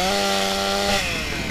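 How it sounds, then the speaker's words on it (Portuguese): Chainsaw revving loud and close in a zombie mod for the GTA San Andreas video game, a sustained buzzing drone that sags in pitch midway, then shifts to a rougher rasp. "Motosserra."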